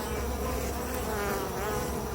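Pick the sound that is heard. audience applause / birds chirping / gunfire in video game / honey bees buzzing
honey bees buzzing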